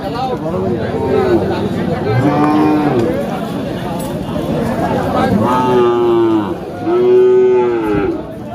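A part-Sahiwal cow at a cattle market in Kurigram moos loudly several times, long drawn-out calls close by, with people talking over the lowing and throughout.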